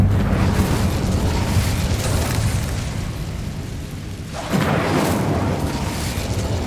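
A roaring fire-spell blast from Incendio in the Hogwarts Legacy video game: a loud, dense burst that rumbles for several seconds, dips briefly, then flares into a second blast that carries to the end.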